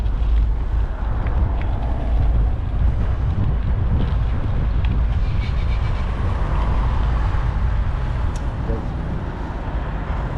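Strong, cool wind buffets the microphone in a constant roar on a street in Poltava, Ukraine, with a voice briefly audible beneath the rush.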